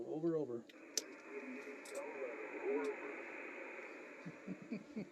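A ham radio operator's voice returns as an echo bounced off the moon after a 2.5-second delay, heard as a faint, hissy, warbling radio voice over steady static, with a brief spoken word before it.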